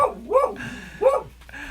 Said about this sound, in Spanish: Y nuestra perrita acaba de ladrar